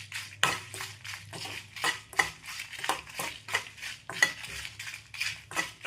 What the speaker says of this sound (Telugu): కొద్దిగా ఆయిల్ వేసుకుని వేయించుకుందాం.